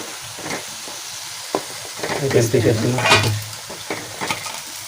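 Vegetables for a mixed curry frying in hot oil in a pan, a soft sizzle that swells loud for a couple of seconds with stirring scrapes, then settles back to a low crackle.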